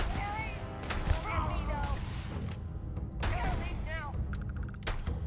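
Revolver gunfire in the video game Starfield cracks out as a few sharp, separate shots amid game noise, while someone talks over the action.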